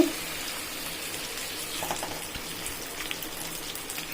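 Half a kilo of chicken sizzles as it is added to fried masala in a pan, a steady, close hiss of frying with light crackles and no talking.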